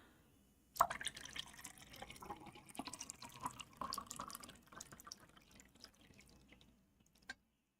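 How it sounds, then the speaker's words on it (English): Water is poured into a container indoors, giving a steady splashing, trickling run of several seconds that is fairly faint and heard alone, ending with a small clink. "Let me pour some more water real quick."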